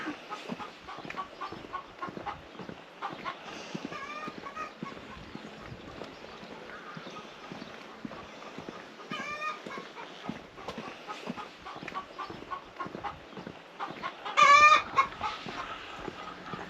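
Chickens cluck intermittently in the background of a woodland walk in the East Mendip area. The calls are fairly faint and scattered, with one louder squawk near the end.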